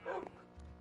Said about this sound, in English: You see all my dogs.